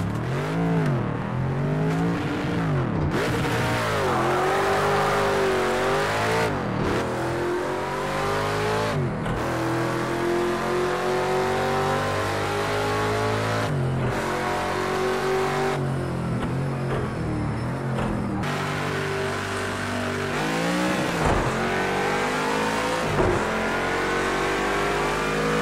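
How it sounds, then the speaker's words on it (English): Race car engine in Project Cars 2 revving hard and loud throughout, with repeated rising pitch sweeps broken by quick gear shifts, a continuous near-field roar with no talk. "my favorite thing would have to be the car sounds, especially when you're changing gears"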